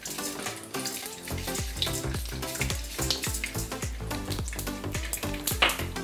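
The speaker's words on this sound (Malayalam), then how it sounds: "അടുത്തത് കടുക് ഇടുന്നു." Mustard seeds splutter in hot ghee in a pan for rava vegetable upma, a busy crackling sizzle with sharp pops, mixed with background music.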